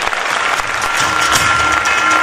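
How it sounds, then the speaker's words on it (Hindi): Energetic applause from an audience, dense clapping that holds steady and loud throughout. "मेरी वाइफ के लिए एक बार जबरदस्त तालियां होनी चाहिए"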